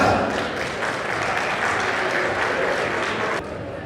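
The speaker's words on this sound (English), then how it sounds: "Please give a big round of applause." Applause from an audience at an alumni anniversary celebration, a brisk burst of many hands clapping that holds steady and then drops off sharply near the end.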